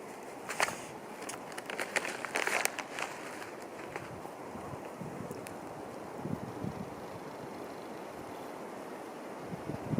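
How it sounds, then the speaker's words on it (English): Wind gusting outdoors at a shooting range, a soft steady rush with faint buffeting and scattered light knocks, fairly quiet throughout. "Waiting for the wind."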